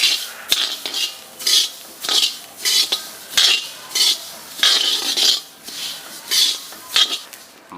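Coriander seeds are dry-roasted in a pan, stirred in a regular rhythm of loud, close rasping sweeps, with sharp metal taps between the strokes.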